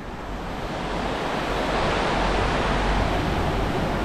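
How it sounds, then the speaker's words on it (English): Creek water rushing steadily beside a chairlift in the Soelden mountains of Austria, a continuous broadband wash that stays constant and fairly close throughout, with some wind noise mixed in. "Oh, that's a creek."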